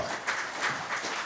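A conference audience at an international G20 meeting briefly applauds its panelists, a soft, diffuse patter of clapping heard from a distance that lasts only a moment.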